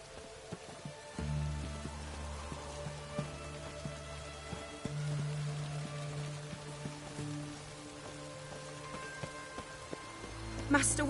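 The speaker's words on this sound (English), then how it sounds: "Looks like rain." Rain falling in the video game Witcher 3: Hearts of Stone, a soft, steady patter under low sustained musical tones, quiet and continuous throughout.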